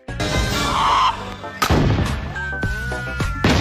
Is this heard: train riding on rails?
no